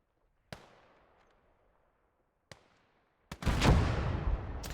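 Katyusha rocket artillery in a WWII real-time strategy game: two sharp isolated bangs a couple of seconds apart, then a loud crackling barrage of rapid launches and blasts rolling on to the end.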